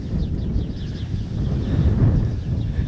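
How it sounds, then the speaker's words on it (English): Wind gusts outdoors buffet the microphone in a low, steady rumble that swells slightly toward the end, with faint high bird chirps in the distance. "The wind's picking up."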